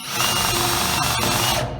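An Einhell TE-CD 18 Li BL brushless cordless drill drives a screw into 1.2 mm sheet metal, a steady loud whirring grind lasting under two seconds with a couple of brief catches.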